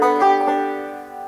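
Banjo playing an alternating thumb roll in the tune Shady Grove, a short run of bright plucked notes ringing together, close and clear, with no talk.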